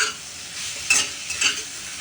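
Thin bitter gourd (karela) slices roasting in a pan: a short stretch of steady frying hiss broken by two brief spatula scrapes.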